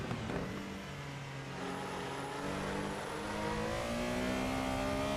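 Porsche 911 Carrera RSR 3.0 engine in the Assetto Corsa racing game, revving steadily upward through the gears with a rising, continuous engine note, moderately loud with no talking.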